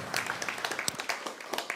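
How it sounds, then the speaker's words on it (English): Scattered applause from a hip hop summit audience, individual claps popping irregularly and fairly sparse, moderately close and not very loud, with faint murmur behind. "just a round of applause for this, man"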